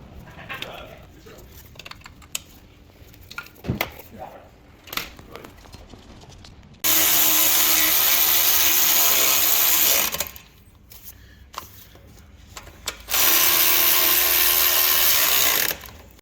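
Bolts on a Jeep Grand Cherokee WK2 diesel being tightened with a ratchet during engine replacement, heard as two loud, sustained whirring bursts of a few seconds each, separated by quieter workshop clatter and faint knocks.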